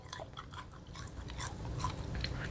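Someone chews crunchy deep fried pork belly cooked in beef tallow, giving soft, close crackling bites and mouth noises that repeat irregularly and stay quiet.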